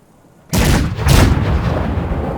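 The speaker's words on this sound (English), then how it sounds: "The 9-pounder going to fire." A 9-pounder cannon fires in a Total War battle mod of the Carlist Wars, one sudden loud boom after a near-silent moment, followed by a second blast and a long rumbling decay.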